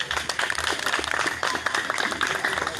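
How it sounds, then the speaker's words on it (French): Audience at an outdoor anti-COVID-19 forum theatre show in Mimboman, Yaoundé, applauding after the performance, a steady dense clapping crowd close by throughout. "On peut applaudir encore."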